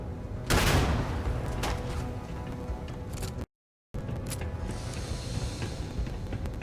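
In the Starfield video game, a grenade goes off with a loud, booming blast, followed by bursts of gunfire and combat noise that carry on for several seconds after a short cut to silence.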